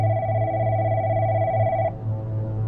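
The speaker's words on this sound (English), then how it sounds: "the phone went off" A telephone rings with a steady electronic tone that holds for about two seconds then cuts off, loud and close over a low hum.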